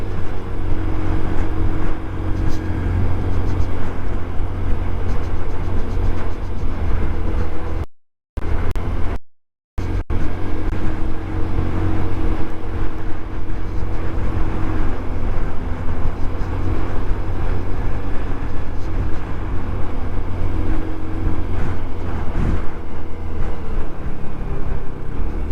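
Riding a scooter gives a continuous loud drone of motor and road noise with wind rush, steady throughout apart from two brief dropouts early on, and no speech.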